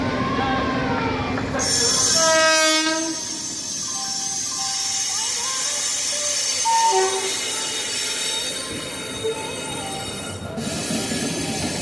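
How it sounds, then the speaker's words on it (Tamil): The Sapthagiri Express passenger train pulls into platform 3, its wheels squealing with long high metallic screeches and a brief horn blast over the rumble of rolling carriages. "பிளாட்ஃபார்ம் நம்பர் 3ல் சப்தகிரி எக்ஸ்பிரஸ் வரப்போகுது"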